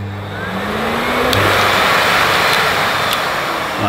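A Miele Swing H1 Electro Ecoline lightweight vacuum cleaner runs with a loud, steady motor roar close by, its pitch shifting slightly as settings change, with no talking.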